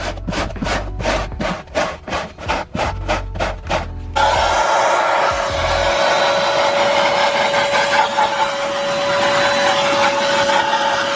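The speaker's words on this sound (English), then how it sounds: "I think I did a pretty decent job at vacuuming all that hair" A vacuum cleaner runs steadily, sucking hair from the interior lining of a Nissan 350Z, preceded by a few seconds of rhythmic scrubbing strokes before the motor's continuous whine takes over.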